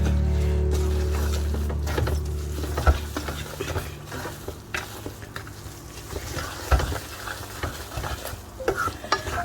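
A utensil works through a ladoo mixture of blended almonds, nuts and cardamom powder in a hot pan. Close, soft scraping and stirring strokes repeat irregularly over a quiet sizzle, and a low hum fades at the start.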